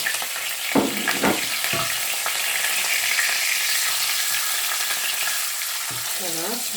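Pasta sauce with beef sizzles and fries in a pan while being stirred, a continuous close hiss with a few sharp scraping strokes near the start and brief utensil knocks, without talk.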